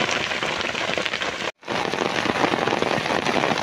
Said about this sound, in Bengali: প্রচণ্ড করে বৃষ্টি শুরু হয়েছে,